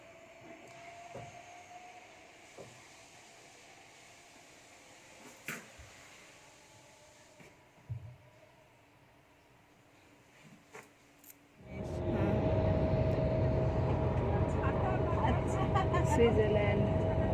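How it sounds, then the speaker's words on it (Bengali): Quiet surroundings with voices and a few small knocks give way to a double-decker train in Switzerland, arriving with a sudden, loud, sustained rumbling roar close by that continues to the end. "Double decker rail."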